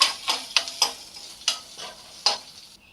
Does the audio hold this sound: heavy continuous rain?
no